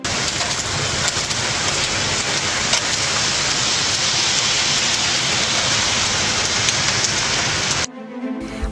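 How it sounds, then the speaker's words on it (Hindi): Steady heavy rain falling on a surface in Karnal, a continuous loud hiss that stops abruptly near the end. "बारिश करनाल में भी हुई।"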